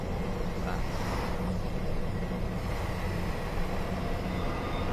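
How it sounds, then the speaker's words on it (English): A diesel train passes as a steady low rumble through the whole stretch, heard near the Metropolitan Line between Watford and the countryside in a London Underground S7 train simulator game, with a faint hum and no clear speech. "I think I can hear a diesel train as well."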